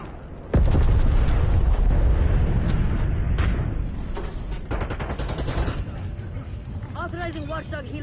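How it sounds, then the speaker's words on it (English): A napalm strike in Black Ops 7 Warzone erupts with a sudden heavy boom, then a long rumbling roar of blasts and crackling fire, with scattered gunfire and game voices over the din. "Grim requesting napalm strike tasking."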